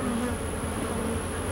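Honey bees buzz steadily around an opened hive during a hive split, a close, continuous insect drone with a faint higher whine, with no talking.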